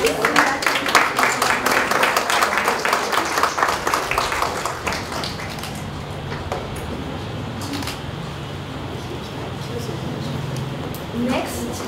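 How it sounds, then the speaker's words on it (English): Applause at a Women's Day celebration, a round of clapping that starts strong and fades out after a few seconds, followed by quieter room noise and a voice talking. "Huge round of applause"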